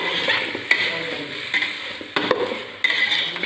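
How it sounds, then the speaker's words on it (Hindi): Marinated paneer and capsicum being stirred with masala in a pan, a steady sizzle with sharp spoon scrapes and clinks against the metal at irregular intervals, close and clear with no talking. "पनीर और कैप्सिकम सबको मुझे ऐड करुँगी एबे पनीर को मसला सहित भल भाव में मिक्स करदेवी"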